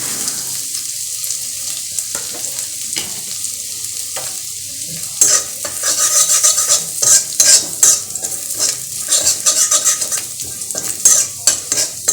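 Garlic dropped into a little oil, a close hiss and crackle of frying that grows busier and louder partway through, with irregular spoon scrapes against the pan.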